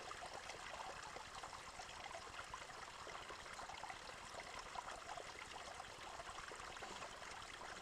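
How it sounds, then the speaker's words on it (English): A small stream flows past a campsite, a steady, even trickle and babble that carries on without pause and sits fairly faint in the background. "We've got a nice camp set up with a little stream coming through here."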